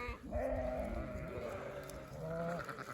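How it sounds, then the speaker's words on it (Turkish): A small lamb bleats in a few wavering calls outdoors while sheep are taken out to spring pasture, fairly near but soft, with faint background voices. "Şu küçük kuzu geldi bizimle."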